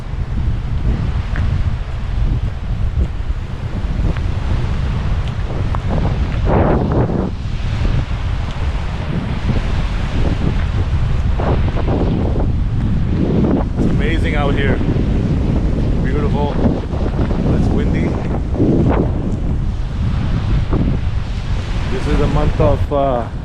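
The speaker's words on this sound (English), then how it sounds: "Beautiful sound from the waves." Ocean waves wash ashore at high tide on a beach at Iona Beach Regional Park in Richmond, BC, under heavy wind buffeting the microphone, with surges of surf rising and falling throughout.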